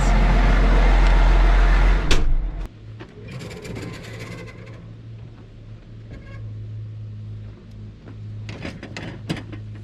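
A farm baler's engine cranks and catches after a loud rushing roar, then settles into a steady, close low idle that hums on through the rest of the clip, with a few clanks and knocks over it.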